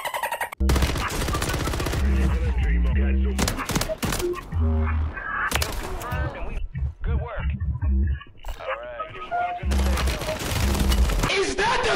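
Rapid video game gunfire bursts in dense, loud volleys with short gaps, while players talk over the shooting throughout.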